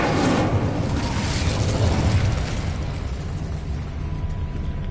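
The Incendio fire spell in Hogwarts Legacy erupts as a loud, roaring burst of flame that slowly fades into a sustained crackling rumble.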